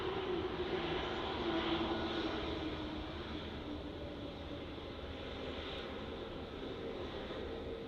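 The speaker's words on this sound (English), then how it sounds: "I think they're going to send this Malaysia A330 off" A Malaysia Airlines Airbus A330 jet takes off at Melbourne Airport, its engines a steady, distant broadband roar that fades slightly as it continues.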